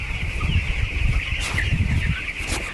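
Chickens cluck and squawk together at a poultry farm in Kerala, a dense, continuous flock clamour close by with occasional sharper calls and wing flutters.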